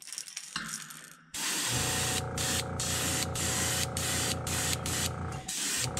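An airbrush or spray gun applies pearl paint to a shad-style fishing lure, a steady close hiss that runs for several seconds, briefly broken by a short pause near the start.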